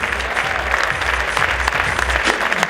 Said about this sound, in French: Je vous demande de les applaudir, ils sont là avec nous.